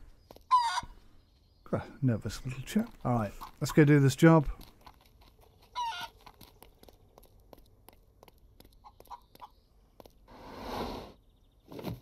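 A chicken in the Barn Finders video game clucks and crows in short bursts between stretches of someone talking, with some crinkling and clicking game sounds around them.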